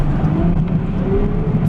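Ferrari F12 V12 engine and exhaust with a steady, dense low rumble and drone under way on a road, loud and close throughout without any talking.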